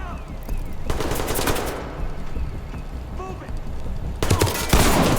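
Automatic gunfire in the tactical shooter Ready Or Not, with fast rattling bursts breaking out over steady background ambience while a player talks.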